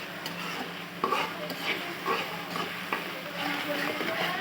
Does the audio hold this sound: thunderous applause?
no